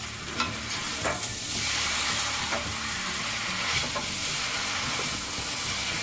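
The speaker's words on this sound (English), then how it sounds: "You want to cook it to where it's searing the noodles as well." Noodles and scrambled eggs searing in a hot pan for drunken noodles (pad kee mao), giving a steady loud sizzle with intermittent stirring scrapes, alone without talk.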